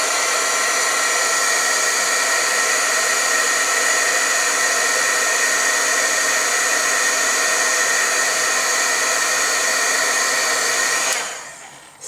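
A heat tool blows hot air steadily onto stamped ink in a rubber stamp craft project, a loud continuous whooshing hum that cuts off abruptly near the end.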